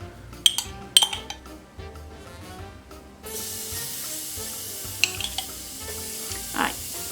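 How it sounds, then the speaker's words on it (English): Vegetables for a frittata sizzling in a hot pan, a steady frying hiss that swells partway through, punctuated by sharp clinks and scrapes of a utensil against the pan. "this is the beginning of the cooking of the vegetables"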